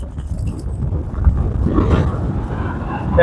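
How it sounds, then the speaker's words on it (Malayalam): Strong gusts buffet the microphone at an open rocky viewpoint, a loud, continuous low rumble that swells and eases, with no voices. "പിന്നെ നമ്മളെ തന്നെ എടുത്തുകൊണ്ട് പോകുന്ന പോലെ ഫീൽ ചെയ്തു ഇവിടുത്തെ ആ ഒരു കാറ്റ്"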